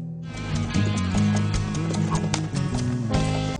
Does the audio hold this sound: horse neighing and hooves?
yes